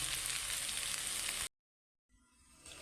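A previously fried hilsa fish head goes into hot oil for a taro-leaf dish. A loud, dense sizzle runs for about a second and a half, then cuts off abruptly to silence before a faint, rising sizzle returns.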